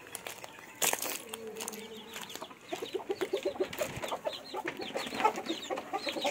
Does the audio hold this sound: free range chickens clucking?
yes